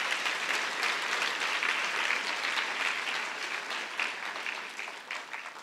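An audience at an awards ceremony claps warmly, a dense, steady patter of many hands that slowly thins toward the end, with no talking over it.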